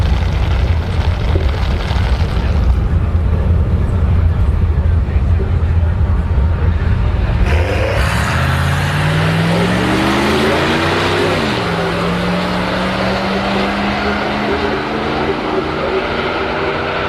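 A BMW X5 35i F15 with a stage 2 full bolt-on stock-turbo setup and a Caprice wagon at an NHRA drag strip: loud, steady engine roar and broadband noise, then a rising, shifting engine drone as the cars pull away.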